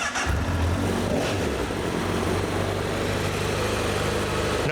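Motorcycle engine starting up close, with a brief low surge at the start before settling into a steady, rumbling idle that holds to the end; the bike has a throttle position sensor and Power Commander 6 fitted.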